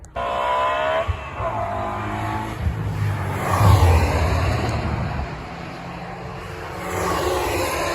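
Racing car lapping the Cadwell Park circuit, its engine note rising and falling as it approaches and sweeps past at a distance, continuous for several seconds with no talk.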